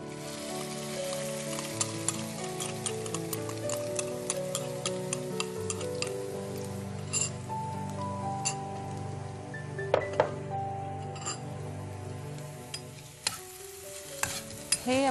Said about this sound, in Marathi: हे आपल्याला परतून घ्यायचंय तुपामध्ये।